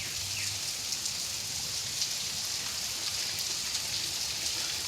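Rain falling steadily outdoors, a soft continuous patter of drops heard at moderate distance, fairly quiet and unbroken, with no talking.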